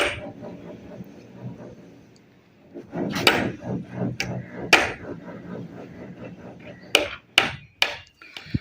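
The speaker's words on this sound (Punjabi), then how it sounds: "ਉੱਪਰ ਹੁਣ 2 ਕਿੱਲ ਲਗਾਵਾਂਗੇ ਤਾਂ ਕਿ ਮਜ਼ਬੂਤੀ ਹੋ ਜਾਵੇ" Nails are hammered into a wooden table frame with sharp, loud hammer strikes, a few spread out and others in quick clusters, close by and without speech.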